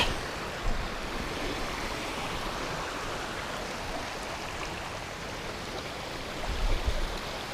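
A waterfall near Slippery Stones, a continuous rush of falling water heard as steady broadband noise with a slight swell near the end, no voices.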